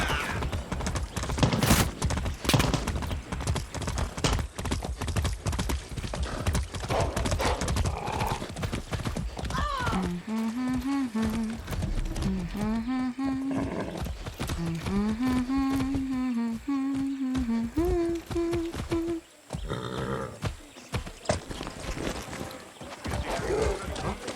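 A horse's hooves clip-clop rapidly and steadily in Far Cry 6, joined midway by a long, wavering neigh, with a sharper whinny near the end; busy game ambience underneath.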